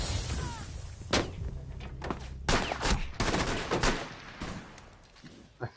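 Bursts of gunfire from hipfiring in the video game Rainbow Six crack out in several sharp, loud volleys, some in rapid clusters, with brief pauses and quieter game sounds between them.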